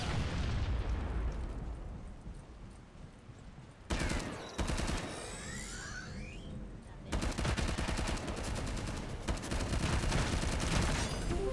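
In a war video game, a grenade blast erupts into sharp booms and crackling bursts amid rapid gunfire, loud and near, with heavy rattling fire continuing after the explosion.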